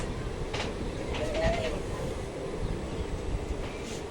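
A train runs past near Rayanapadu railway station, a continuous heavy rumble with faint rhythmic clatter that stays steady and fairly close throughout.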